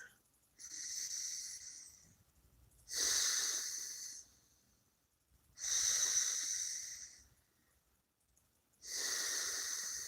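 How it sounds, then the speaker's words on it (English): Slow, deep breathing during a meditation, four long airy breaths in an even rhythm with quiet pauses between, close and soft. "So just really take the time to breathe."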